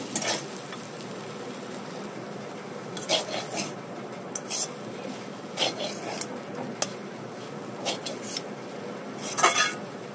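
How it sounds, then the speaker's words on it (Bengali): A chicken snack mixture seasoned with Maggi masala is stirred in a pan, with a utensil scraping and clinking against the metal in irregular strokes over a steady low sizzle, close and alone. "এরপর ম্যাগি মশলা দিয়ে খুব ভালো মতো একসাথে নাড়িয়ে নেব।"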